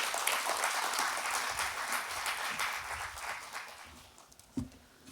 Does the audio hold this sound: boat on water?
no